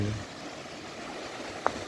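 Ocean waves washing onto a sandy beach at night, a soft continuous hiss of surf rolling in, distant and fairly quiet, with a brief faint click near the end.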